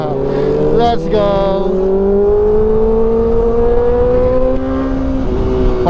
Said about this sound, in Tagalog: Parang 6R yung tunog nitong 450RR